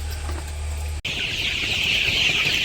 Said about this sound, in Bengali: আর এই পাশে মুরগিতে বালতির মধ্যে উঠে খাওয়া শুরু করছে।